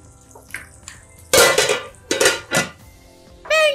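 Clanking of a metal lid settling onto a pot of cooking spaghetti in a home kitchen, with two loud bursts of clatter and rattle close by, followed by a short ringing metallic tone.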